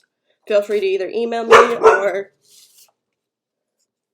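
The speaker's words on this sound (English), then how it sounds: "that's my dog" A dog barks a couple of times in short bursts partway through, overlapping a man's steady speech indoors; the barking is close and roughly as loud as the voice.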